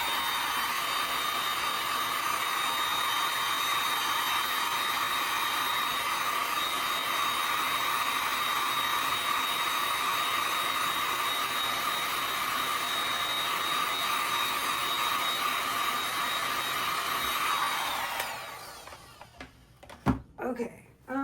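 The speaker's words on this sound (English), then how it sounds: "I'm going to heat gun that again" A heat gun blows steadily to dry paint, a loud continuous whooshing hiss that runs for about eighteen seconds before cutting off, followed by a few quiet knocks.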